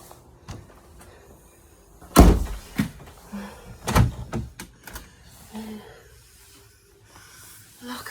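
A door on a duck-keeping farm is pushed shut and locked: two heavy thuds a couple of seconds apart, followed by a series of sharp latch and lock clicks at close range.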